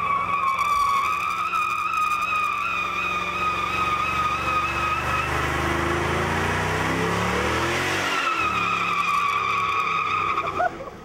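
Car doing a burnout on bald tires, a loud continuous tire squeal with sustained high-pitched whine layered over a revving engine, close and steady for about ten seconds before briefly dipping and resuming.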